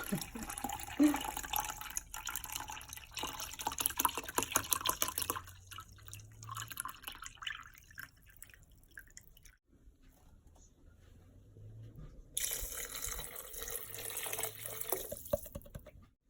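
Two cups of water poured into a pot with chicken broth for creamy carrot soup, a close splashing, gurgling stream that stops midway, with a quieter gap before another burst of pouring, no talking.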